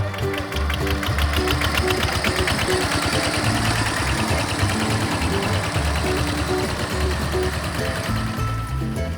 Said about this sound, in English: Now tractor ride.